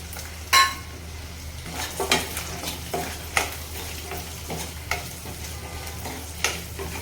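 Curry leaves fry in hot oil in a pan, giving a steady close sizzle broken by scattered scrapes and taps from a stirring spoon.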